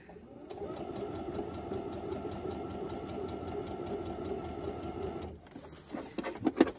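A sewing machine stitches along both sides of a fabric face mask, a steady close mechanical whirring rattle lasting several seconds, then stopping and followed by a few soft clicks and fabric handling noises.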